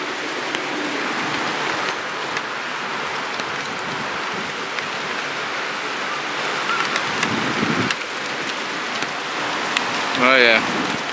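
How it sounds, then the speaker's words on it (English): Steady, heavy rain falling during an approaching summer thunderstorm in Mesa, Arizona, a dense continuous hiss with a low rumble and thuds around the middle; a voice speaks briefly over it and a short chirping call stands out near the end. "I like the rain. I do not like the lightning."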